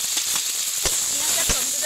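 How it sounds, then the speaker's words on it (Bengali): Onion and tomato paste fries in oil in a kadai with a dense, continuous hissing sizzle throughout. A couple of soft scrapes or knocks sound up close. "পেঁয়াজ আর টমেটোটাকে আবারও এক মিনিট কিছু সময়ের জন্য লাল লাল করে ভেজে নেব"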